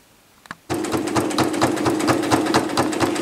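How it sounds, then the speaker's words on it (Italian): A sewing machine stitching fabric for a bread basket starts after a couple of soft taps and runs steadily, close and loud, with a fast, even mechanical rhythm of needle strokes. "segno il tessuto e cucio."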